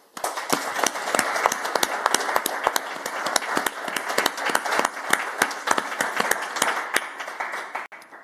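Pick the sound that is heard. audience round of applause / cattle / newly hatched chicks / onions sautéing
audience round of applause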